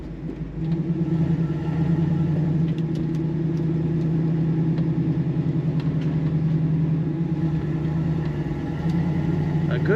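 A 1967 Chevrolet Camaro convertible with an automatic transmission runs with a steady low engine rumble, holding a constant drone close by for the whole stretch while a person talks over it.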